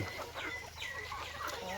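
Native country chickens raised on homemade feed cluck in a brief burst of close, overlapping calls, with a faint hum of background noise.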